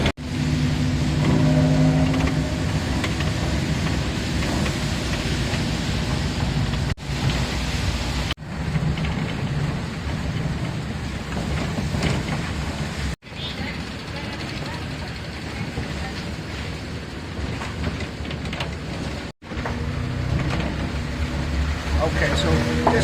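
A taxi driving on Koh Phangan from the pier toward Ban Thai in the rain, with loud continuous road and engine rumble and a wet hiss broken by a few short dips, a voice speaking over it.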